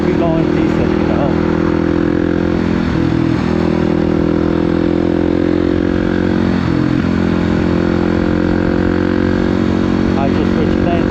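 A 650 motorcycle engine cruising in fifth gear, a steady loud drone heard close from the rider's position, with constant wind and road roar and slight swells in engine pitch.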